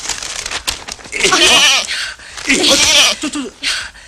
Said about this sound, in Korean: 저놈의 염소가?